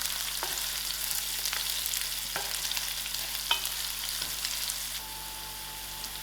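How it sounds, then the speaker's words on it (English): Garlic frying in hot oil for a gram dhal and brinjal curry, a steady close sizzle with a few brief stirring clinks and scrapes, no voices. "Now I'm adding in my garlic so we can cook in the oil for a little while."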